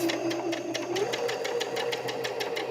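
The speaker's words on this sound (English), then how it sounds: "we're just sewing up the sides of the new pockets now" A sewing machine runs steadily, stitching up the sides of newly made fabric pockets on a pair of pants, with a rapid, even needle rhythm and motor hum close by, no talking.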